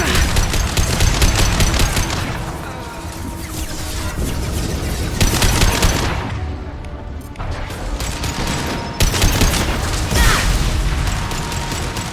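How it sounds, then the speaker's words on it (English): Heavy gunfire in Mass Effect 2 combat, a dense run of rapid automatic shots mixed with impacts and mechanical clatter, loud and near, easing briefly midway before resuming. "Taking heavy fire!"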